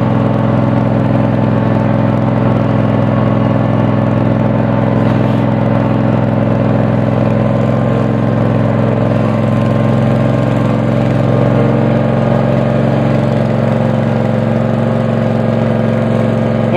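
A Cub Cadet RZT50 zero-turn mower with a 22HP Kawasaki engine idles steadily after a spring cold start, a loud, even, close-up hum with a low throb and no talking.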